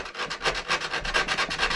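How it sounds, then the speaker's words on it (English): Rhythmic rubbing of sandpaper on a coped baseboard cut, quick back-and-forth strokes repeating steadily, close and fairly loud. "the closer you were with your coping cut, your initial cut, the less sanding you're going to have to do"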